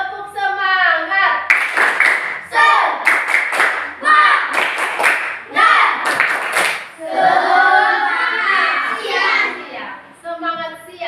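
A group of children performs a rhythmic spirit clap in a classroom, chanting along in bursts with quick, patterned clusters of sharp claps and shouted voices mixed together.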